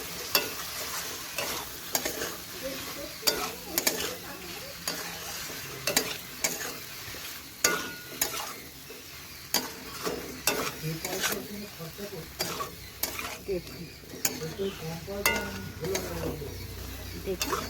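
Chili garlic potato balls fry in a pan while being stirred, giving a steady sizzle with repeated sharp scrapes and clinks of the utensil against the pan, close and fairly loud.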